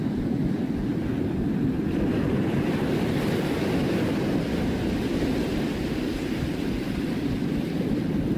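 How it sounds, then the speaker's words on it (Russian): Ocean waves breaking on the rocky Chilean coast, a continuous heavy roar of surf with wind rushing across the microphone, loud and steady throughout with no voices. "Здесь просто идеальные волны, также острые скалы."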